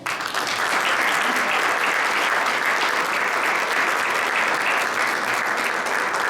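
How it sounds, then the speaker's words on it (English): A large audience at a university retirement ceremony for a long-serving professor gives a sustained, dense round of applause, steady and loud throughout with no talk over it. "I think this is worth another round of applause."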